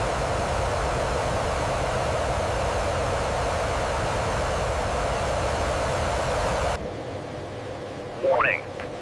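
An EA-18G Growler jet engine roars as a broad, loud, steady rushing noise that cuts off abruptly, followed by a brief rising whine over quieter background.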